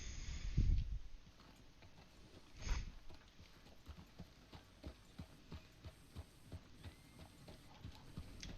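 A horse's hooves clip-clop in an even, steady walking rhythm within a video game, with a louder thump and a short snort or whinny near the start, under quiet background ambience.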